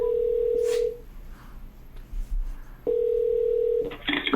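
Telephone line tones while a call connects, two steady ringback beeps about two seconds apart with quiet gaps between, then a short burst of higher tones at the end, clear and loud.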